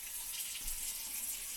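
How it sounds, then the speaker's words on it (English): Hot water runs steadily from a kitchen tap in a home kitchen, a constant close hiss of flowing water with no pauses. "I'm going to start running my hot water"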